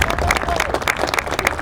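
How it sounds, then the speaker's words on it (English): Audience applause at a kids' press conference, dense clapping filling the short stretch at steady loudness with a busy crowd texture. "Another round of applause,"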